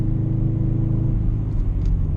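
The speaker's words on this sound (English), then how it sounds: "complain that the Tomei is too loud with a downpipe, which it does get very loud since it's titanium" A 2004 Subaru STI with a titanium Tomei catback exhaust holds a steady, deep, droning rumble at constant load while cruising at night, loud and close, with no revving or talking.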